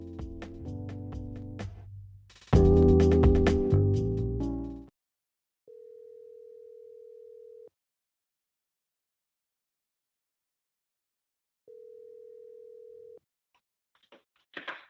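Phone call ringing out after a burst of podcast intro music: two long, steady tones separated by silence, clean and close, before the line connects.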